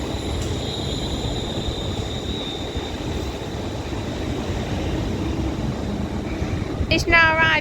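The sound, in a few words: London North Western Railway class 350 train arriving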